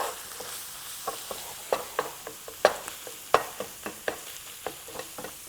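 Meat frying in a pan, with a soft sizzle underneath and repeated scraping and tapping strokes as it is stirred, close and moderately loud, with no talking.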